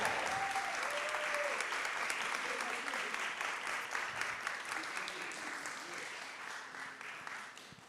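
Audience applause at a hackathon's final presentations, sustained loud clapping from a crowd with some cheering voices mixed in, slowly fading toward the end.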